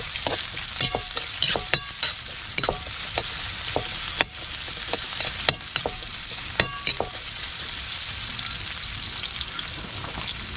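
Garlic, onion and pepper sizzle steadily in a hot pan for arroz caldo with beef skin, a constant crackling hiss broken by sharp scraping taps of a spatula stirring against the pan, with no talking.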